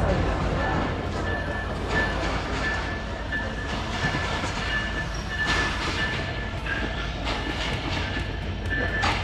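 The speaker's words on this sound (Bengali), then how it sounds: "ওই দা আমাদের ট্রেন আসতেছে। এই যে এটা হলো আমাদের দ্রুতগামী এক্সপ্রেস।" An express train pulls into a station in Bangladesh with a loud, continuous rumble of wheels and carriages, scattered clatter and a faint high squeal, heard close and steady throughout.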